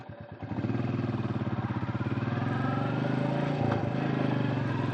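A Royal Enfield Meteor 350 Easy Rider with its 350cc single-cylinder engine, a steady throbbing thump while riding, close and continuous after a few opening pulses, with no talk.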